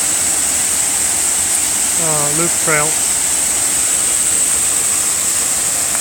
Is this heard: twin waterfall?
yes